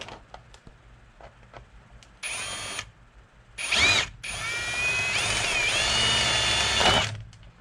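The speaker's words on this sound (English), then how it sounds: "let's drill out the remaining rivets" A power drill bores out rivets on a Yamaha YZ250FX motorcycle air scoop, with several short whining bursts, then a longer sustained drilling run with grinding bites, close and loud, and faint clicks between.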